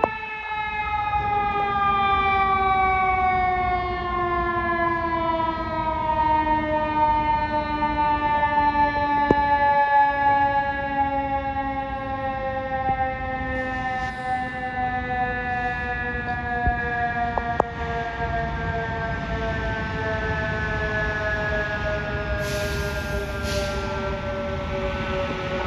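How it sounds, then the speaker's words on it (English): Fire truck siren wailing loudly and steadily, its rising and falling tones sustained throughout as the vehicle passes close by, with a slight pitch drop toward the end and no talk. "Oh, here comes a fire truck."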